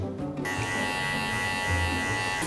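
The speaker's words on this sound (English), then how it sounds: "I've never used clippers before. You can put attachments on them." Electric hair clippers at a hairdresser's or barbershop give a steady, close, even buzz that starts abruptly and runs unbroken to the end.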